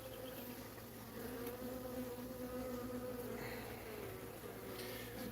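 Honeybees drone steadily around an open beehive as frames are handled, a dense continuous buzz close by that stays even and loud throughout, with no voices.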